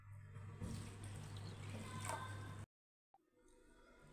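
Thick flattened rice (poha) being rinsed by hand in water for ragi dosa batter, giving a steady wet swishing and squishing close by for about two and a half seconds before a brief silence and a faint splash.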